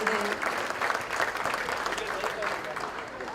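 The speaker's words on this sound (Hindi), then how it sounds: "एक ज़ोरदार तालियां इन तमाम गुजरे हुए लोगों के लिए" Applause from the audience at a Nazimabad reunion gathering, a dense, continuous clatter of many hands sustained throughout at moderate volume, with some crowd murmur mixed in.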